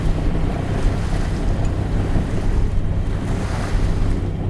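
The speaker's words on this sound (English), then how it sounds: "I can feel the swell rolling through" Ocean swell and surf wash steadily around a sailing boat off the Indonesian coast, with continuous rushing water and wind buffeting the microphone at a loud, even level throughout.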